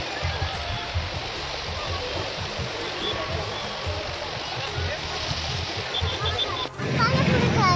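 Steady broadband rush of a flowing river fills the whole stretch, continuous and fairly loud, with a deeper surge of water noise near the end; no clear talk stands out.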